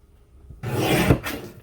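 Paper trimmer slicing pieces for a sunflower scrapbook page kit, a single short scraping cut of the blade sliding across paper after a moment of quiet.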